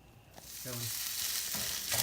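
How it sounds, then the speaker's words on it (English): Food sizzling steadily in a hot pan while it is stirred, with a few louder scraping strokes standing out against the constant close frying hiss. "get a good heat on this. I'm gonna stir it for a minute or so"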